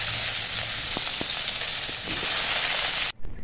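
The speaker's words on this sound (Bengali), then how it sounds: "এঁচোড়টা একটু সেদ্ধ করে নিয়েছি, সেটা আমি ওই তেলে ভেজে নেব।" Boiled green jackfruit fries in mustard oil in a kadai, a steady close sizzle with a few faint clinks of stirring, ending abruptly with a brief knock.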